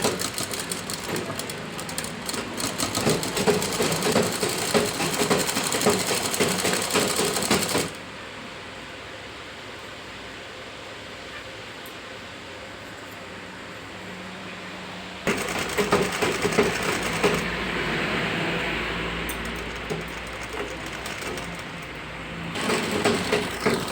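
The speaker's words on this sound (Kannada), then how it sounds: "ಫೈನಲ್ ಸ್ಟಿಚ್ ಹಾಕೊಳ್ಳೋಣ" A sewing machine stitching a blouse runs in two loud, rapid bursts of mechanical clatter, each several seconds long, separated by a quieter pause with only faint background noise.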